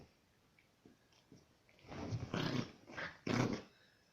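Dogs growl and snarl while tussling over a toy tiger, the growls building from quiet snuffles into loud, close bursts with chewing and biting sounds in the second half.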